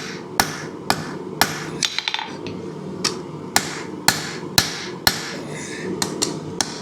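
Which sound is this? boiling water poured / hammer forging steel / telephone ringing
hammer forging steel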